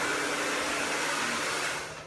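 A hair dryer blows during a salon blow dry, giving a loud, close, steady whooshing hum with a faint tonal whine. It eases off slightly at the end.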